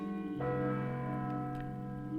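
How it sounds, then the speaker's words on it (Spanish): A large church bell rings with a sustained, resonant tone that swells in and lingers, its overtones hanging steadily over soft background noise. "Los toques de las campanas."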